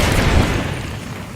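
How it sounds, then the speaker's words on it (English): A barrel blown up in the video game Wet, heard as a loud, broad boom that rolls and decays over about a second with a low rumble, alone without talk. "all we gotta do is blow up that barrel right behind that guy"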